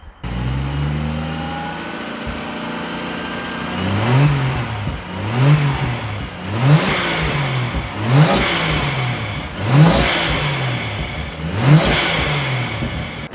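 A Ford Barra turbo engine idles and is revved repeatedly during an intake flush, about seven rising-and-falling throttle blips spaced roughly every one and a half seconds, loud and close with no talking.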